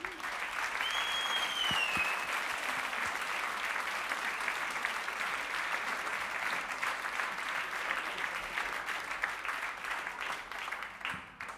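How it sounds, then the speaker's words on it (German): Sustained audience applause fills the room, a steady wash of many hands clapping with a brief whistle near the start, fading slightly at the end. "Ein Applaus für Rocco."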